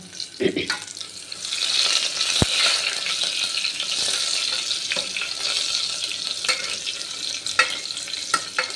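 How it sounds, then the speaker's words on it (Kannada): Garlic frying in a pan for a leafy greens curry, a loud continuous hiss of hot oil with occasional stirring scrapes and a sharp clink, close and steady with no talk. "ಫಸ್ಟು ಬೆಳ್ಳುಳ್ಳಿ ಒಂಚೂರು ಫ್ರೈ ಫ್ರೈ ಮಾಡ್ಕೋಬೇಕು"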